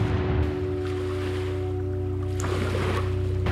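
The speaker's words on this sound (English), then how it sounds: "Water flows." Water flowing in a steady, loud wash, joined by a constant low droning hum throughout.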